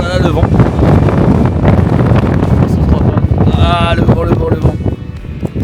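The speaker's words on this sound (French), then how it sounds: "Oh là là, le vent." Strong wind buffets the microphone at a lagoon near a glacier in Patagonia, a loud, steady roar that persists throughout, with a person speaking over it.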